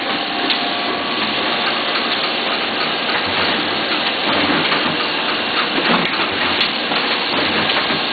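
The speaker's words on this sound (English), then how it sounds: "The set coming out through the rollers. Entering the trimmer." A Duplo DC10000S finisher trimming a booklet set, a steady mechanical rumbling whir of rollers and trimmer with a few faint clicks, continuous and fairly close, no voices.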